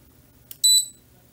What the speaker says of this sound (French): on voit qu'il bip comme il faut